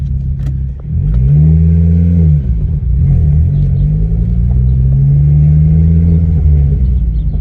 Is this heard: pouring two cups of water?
no